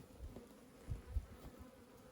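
Honeybees from a package colony buzz in a low, steady drone, faint and fairly close, with a few soft thumps over it.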